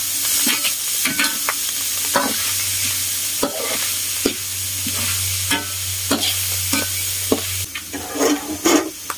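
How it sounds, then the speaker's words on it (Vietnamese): Egg and batter frying in a pan for a Vietnamese shrimp-cracker and baby-clam dish, a continuous close sizzle punctuated by repeated sharp scraping and stirring knocks of a utensil against the pan, with no talking. "Mình cũng có chừa lại mớ để mình chiên á cả nhà, mình chiên trứng á."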